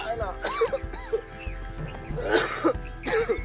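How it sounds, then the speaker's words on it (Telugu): A person coughs and clears their throat several times in short bursts, close by, with a few quieter coughs in between. "ఏమైంది, దగ్గుతున్నావు?"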